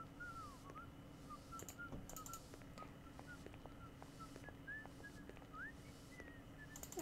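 A cleaner at a train station in the video game Syberia whistles a meandering tune in short, thin phrases, carried steadily over a low hum of game ambience with faint scattered clicks.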